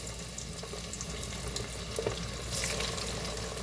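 Chicken wings dropped into hot oil on a stovetop, a steady crackling sizzle of frying that swells briefly midway, close and continuous with no talking.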